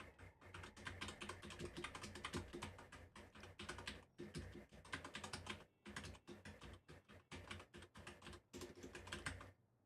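Fast, continuous typing on a computer keyboard, a dense stream of close, quiet key clicks with only brief pauses and no talking.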